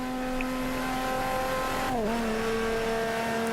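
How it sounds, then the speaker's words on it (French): A car accelerates flat out, a steady engine drone holding its pitch, then briefly dipping and recovering as it shifts up a gear; loud and close, with no talking. "accélérez à fond, deuxième, troisième, quatrième, la cinquième"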